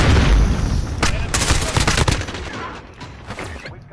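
Rapid bursts of automatic suppressive gunfire in the Call of Duty Modern Warfare video game, loud, dense, overlapping shots for the first few seconds, then thinning into scattered reports.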